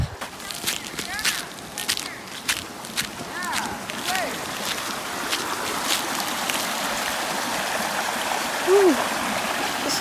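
A river flowing beside a summer campsite, a steady broadband rush of running water close to the microphone, with a few sharp clicks and brief bird-like chirps over the constant flow.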